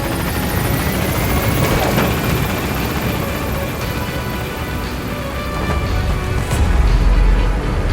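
A helicopter lifts off and gains altitude out of a combat zone in Metal Gear Solid V: The Phantom Pain, a loud continuous rotor roar with rising intensity near the end, no talk.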